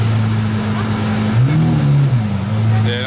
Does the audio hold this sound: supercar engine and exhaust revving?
yes